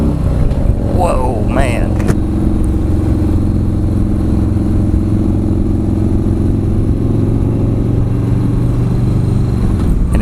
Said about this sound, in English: it's hard to describe the sound of this exhaust. I mean, it's not just tooling along. It's a nice little bass rumble